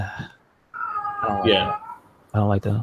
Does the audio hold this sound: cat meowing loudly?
yes